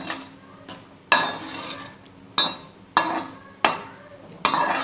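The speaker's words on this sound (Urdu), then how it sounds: "اس میں ہم ساتھ ہی یہ نمک اور کالی مرچیں بھی ایڈ کر دیتے ہیں تاکہ یہ چکن بھی اچھے سے فرائی ہو جائے" Chicken fries with salt and black pepper for Chinese-style rice, as a metal spoon stirs and knocks against the pot in repeated sharp clanks over a low sizzle, close and fairly loud.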